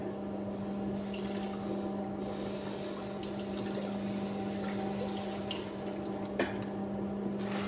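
Water runs in a continuous, steady stream, close by, over a constant low mechanical hum, with one small knock near the end.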